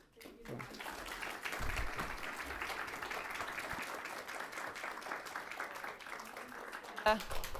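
A room full of people applauds panelists at the close of a policy talk on Syrian displacement, steady and rather faint clapping that holds throughout, with a brief voice near the end.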